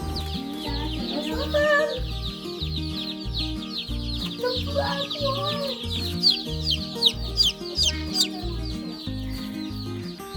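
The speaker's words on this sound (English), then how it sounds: "Yes, I'm so excited to get 70 chickens." A flock of farm chickens cluck and chatter over a steady rhythmic music track, with a brief spoken remark partway through.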